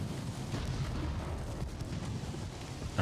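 Gunfire from 4-inch naval guns in the Ultimate Admiral: Dreadnoughts naval battle game rumbles as low, muffled booms under a constant dull roar, fairly quiet overall.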